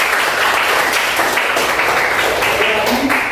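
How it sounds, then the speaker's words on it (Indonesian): A class of students applauds during a school lesson, a dense, continuous wash of clapping at fairly loud level, with some voices mixed into the noise. "Tepuk tangan untuk semuanya."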